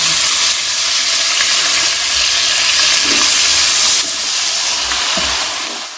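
Garlic ginger paste sizzles steadily in a pot of oil for a large batch of chana pulao, a loud continuous frying hiss with no talk.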